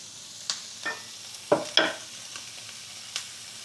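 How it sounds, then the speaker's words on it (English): Octopus and conch being stirred in a pot, several distinct scraping and clattering strokes of a utensil over a soft background sizzle, with gaps of quiet between them. "Stir it up a little."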